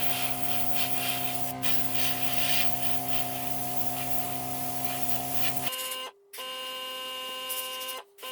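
Aerosol spray paint hisses steadily as a second coat goes onto a Matchbox GMC refrigerator lorry No. 44c being restored, a close continuous spray with a tonal hum, cutting out briefly twice near the end.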